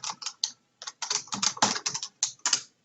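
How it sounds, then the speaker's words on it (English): Rapid bursts of keystrokes on a computer keyboard, typed in short irregular clusters with brief pauses between them, close and clear with no talking. "type in"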